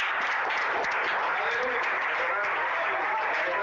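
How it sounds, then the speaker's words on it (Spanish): A church congregation applauds during a worship service, a continuous wash of clapping at moderate level with voices mixed in throughout. "Den un aplauso al Señor."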